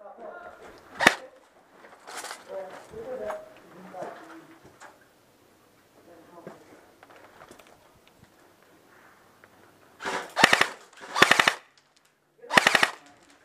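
Airsoft guns fire in quick bursts of sharp rapid shots during building clearing at a Texas paintball field, some distant and some close and loud near the end, with people talking quietly in between.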